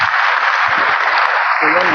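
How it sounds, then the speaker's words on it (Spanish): Audience applause at a Spanish-language talk on chronic depression, a dense steady clapping wash filling the clip with faint voices underneath near the end. "Gracias por todo, un aplauso para Katiuska."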